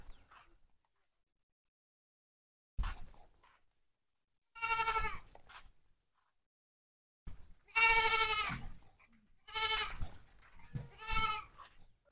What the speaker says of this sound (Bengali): যে ছাগলগুলো গ্রেজিং এ গেছিল ওদেরকে কিন্তু এবার নিয়ে আসা হচ্ছে